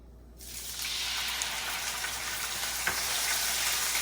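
Ginger paste dropped into hot oil while making khichuri: a sudden onset of crackling sizzle that stays loud and steady with scattered pops, close by, after a quieter moment.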